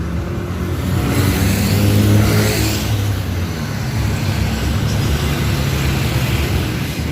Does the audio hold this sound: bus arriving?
yes